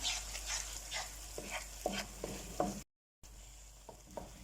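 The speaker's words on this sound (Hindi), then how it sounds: "हल्दी बहुत अच्छा सा भुनना स्टार्ट हो गई है।" Raw turmeric roasts in ghee for halwa with a low, steady sizzle and repeated scraping stirs. A brief dead-silent gap falls midway, and the frying resumes at a quieter level afterward. No one speaks.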